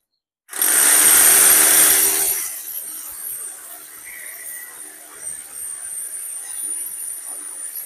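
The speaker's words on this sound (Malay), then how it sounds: "Okey, kita akan tebuk dekat sini." Power drill boring a hole into the ground for an earthing rod, a loud harsh grinding burst for about two seconds that drops to a quieter steady whir and rattle.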